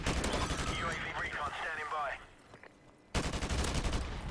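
Loud gunfire in Call of Duty Modern Warfare Remastered during a team deathmatch on the Vacant map, a dense burst of shots, then a brief lull before firing resumes, with a voice over the din.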